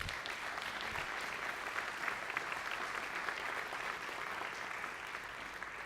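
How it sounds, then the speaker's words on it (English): An audience gives a steady, sustained round of applause at a gathering, even dense clapping filling the room at moderate distance without a break. "can we give them a round of applause and honor?"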